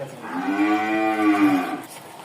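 A single long, deep Holstein Friesian cow moo, close and clear, swelling and then fading out over about two seconds, at a dairy farm.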